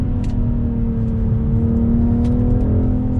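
A 2021 BMW M440i all-wheel-drive coupe accelerates hard with quick gear shifts, its engine droning loud and steady close by from start to finish.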